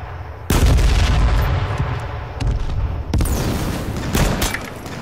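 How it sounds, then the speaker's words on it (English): Shotgun fire in the battle royale video game H1Z1, loud booming blasts and a dense rumbling roar of gunfire that stays heavy throughout. "I melted him with that, or I fucked him up with that shotgun, too."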